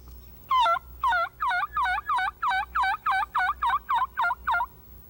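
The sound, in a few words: diaphragm mouth turkey call imitating a turkey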